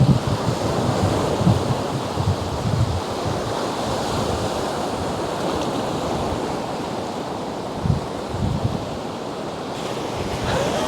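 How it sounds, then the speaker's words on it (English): Ocean waves surge and break around rocks on the Central Coast near Sydney, a steady loud wash of surf with gusting wind noise on the microphone and a few heavier swells rising briefly. "Ideally what we would like is some nice waves to come in and around these rocks."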